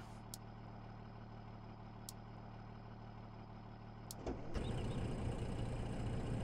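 Grain truck engine in Farming Simulator 17, a steady low engine drone at an even level, with a few brief clicks, then the engine note swelling louder and rougher near the end as the truck pulls away.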